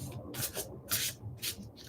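Papers or small objects are shuffled and rubbed close to the microphone in about five quick, soft scraping bursts in an otherwise quiet room.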